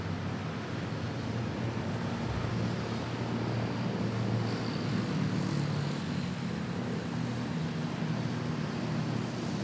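An airliner on the Tuguegarao to Manila flight goes around at Manila Airport on a windy day, a broad, steady engine roar with a gusty, surf-like wash that holds without pause.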